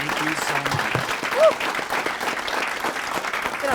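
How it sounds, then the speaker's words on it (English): A convention crowd at a horror con panel in Calgary applauds steadily, a dense wash of clapping with cheers and a brief whoop, voices talking over it throughout. "give Danielle a big round of applause"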